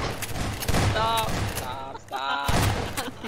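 Rapid bursts of gunfire in the video game Garry's Mod Prop Hunt crackle in quick succession, loud and close, while a voice talks over the shots.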